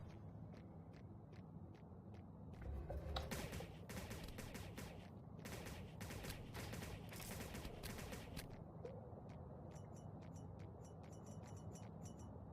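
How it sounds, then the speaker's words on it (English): Pulse rifle and flak rifle firing in the video game CryptRunner, with dense rapid bursts of sharp shots in clustered volleys, then a steadier stream of crisp, spaced reports, loud and close without talk. "There's a pulse rifle and flak rifle all at once, so there's my flak rifle. There's my pulse rifle."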